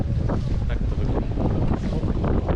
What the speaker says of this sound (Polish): Wieje nam ostro od tyłu.